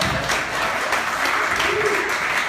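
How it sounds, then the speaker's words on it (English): An audience at a rhythm workshop applauds with a continuous, even round of clapping filling the room, with a faint murmur of voices beneath. "Yes, round of applause"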